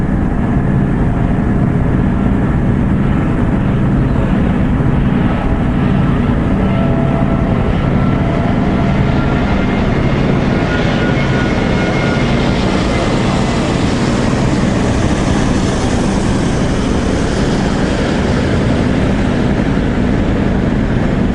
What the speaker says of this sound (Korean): 여기가 비행기가 착륙하는 바로 그 길인가 봐요